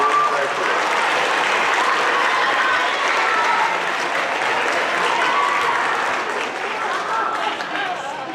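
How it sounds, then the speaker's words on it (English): Audience at a sixth grade awards ceremony applauding steadily and loudly throughout, a dense sustained clapping with faint crowd murmur underneath. "Another round of applause for these 3."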